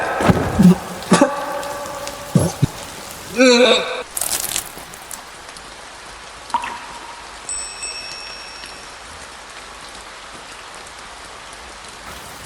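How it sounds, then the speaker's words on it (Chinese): Rain falls in bright sunshine, a steady soft hiss that runs through the whole stretch, with voices and a brief throat-clearing-like sound near the start before the patter continues alone. "这么大的太阳还能下雨？"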